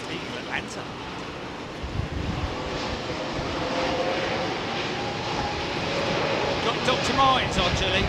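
An aeroplane passes at Heathrow Airport, a broad roaring engine rush that slowly swells over several seconds, with wind noise on the microphone and people chatting nearby.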